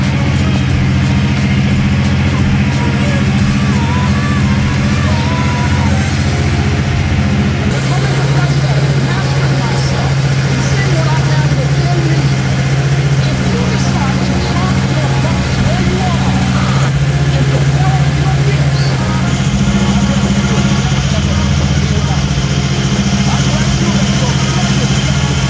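A restored Honda Vario Techno 110 scooter engine idles steadily and close by, a low, even hum with a faint higher whine, continuing without break for the whole stretch.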